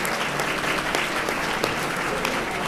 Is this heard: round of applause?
yes